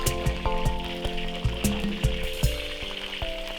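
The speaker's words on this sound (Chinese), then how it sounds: "等油温6、7成热的时候呢，我们就把猪肉片依次放入锅内" Pork slices fry in hot oil in a wok with a loud, continuous sizzle. Crisp crackles and pops recur throughout, close up, with no talking.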